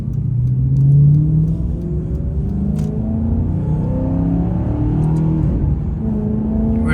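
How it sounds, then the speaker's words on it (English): A 2009 Maserati GranTurismo engine revs and growls through its exhaust as it pulls away, a loud, close, continuous rising roar with no talking. "Really get a nice growl out of the exhaust."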